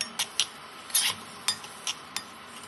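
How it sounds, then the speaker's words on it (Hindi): Baingan paneer bharta being stirred in a pan over low heat, a series of close scraping and clinking strokes of a spoon against the metal, irregular and spaced, with a faint sizzle underneath. "थोड़ा सा चलाइएगा और आंच धीमी ही रखिएगा।"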